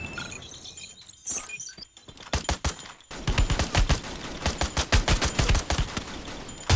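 Rapid bursts of gunfire in the Free Fire battle-royale video game, sparse single shots at first and then dense repeated volleys with sharp, shattering cracks, loud and close, with no voices over them.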